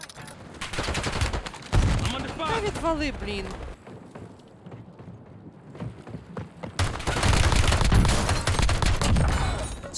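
Rapid bursts of Call of Duty: Warzone gunfire crackle in repeated volleys, with someone talking briefly in between.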